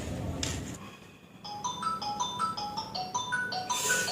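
A mobile phone rings with a bright electronic ringtone melody of stepped repeating notes, rising over a murmur of room noise and continuing steadily to the end.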